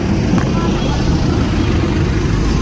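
A car on a road in Germany gives off a steady, fairly loud low engine and tyre rumble that holds at an even level throughout.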